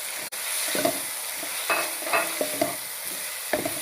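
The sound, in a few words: chicken frying in pan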